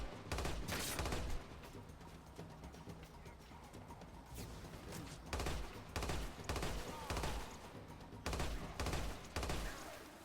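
Three-round burst rifle fire in Lost Planet 2, sharp clustered bursts repeating every second or two across the stretch, close and punchy with faint game ambience between volleys.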